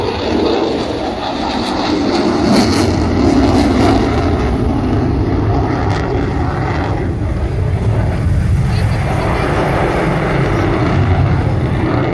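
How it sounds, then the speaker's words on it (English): A loud, continuous jet roar from an F/A-18 Super Hornet performing at the Millville airshow, broad and rumbling with shifting intensity as it maneuvers overhead. "Demonstrating the Super Hornet's agility."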